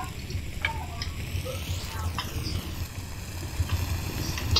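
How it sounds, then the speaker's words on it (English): A chicken leg frying with sage in a pan gives a steady, soft sizzle that runs throughout, with faint kitchen clinks and no talking. "Gonna cook up real nice with the chicken leg. Okay. While that sizzles up real good"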